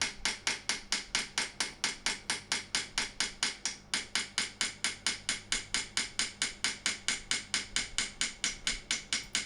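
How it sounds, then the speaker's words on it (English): Steady, rapid metallic hammer taps setting a metal wire inlay, evenly spaced strikes continuing for several seconds with a brief pause midway, close and crisp. "I'm actually going to go back and hammer it down just that little bit more"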